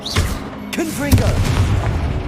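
Confringo blasting spell cast in a Harry Potter game on PS5: a loud booming burst opens the clip, then crackling, rumbling impacts continue over a sustained low bed. Brief vocal-like tones sound through the blast.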